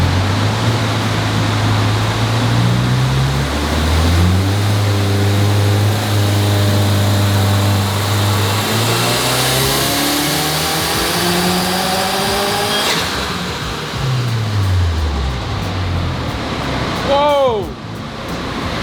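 A 2024 Subaru WRX running a custom flash tune revs hard on a dyno, its engine note climbing steadily in pitch through a long loud pull before dropping off, with a brief voice near the end.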